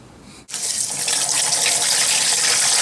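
Tap water gushes into a container to mix nut grass herbicide granules. After a brief quiet start, a strong, steady, close stream pours in continuously with no voices.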